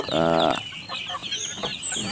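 Free-range village chickens cluck close by, with one loud, drawn-out squawking call up front followed by softer scattered clucks and farmyard chatter.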